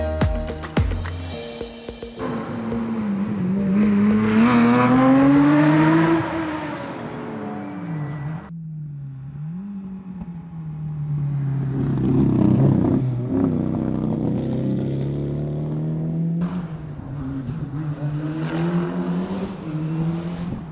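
Historic rally cars racing on a gravel or tarmac stage south of Aigle, engines revving hard and shifting through gears as one car approaches and passes loudly, then another climbs through revs in the distance before coming closer.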